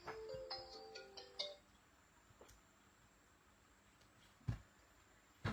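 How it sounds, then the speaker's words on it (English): A phone ringtone for an incoming call plays as a short series of beeping melodic tones, faint and distant, followed by a quiet background with a few soft knocks. "That's my husband ringing."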